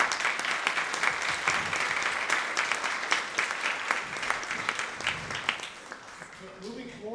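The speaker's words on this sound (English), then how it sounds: "Let's give them all another round of applause." Audience at a school upper school spring instrumental concert claps in sustained, dense applause that stays loud throughout, tapering slightly toward the end.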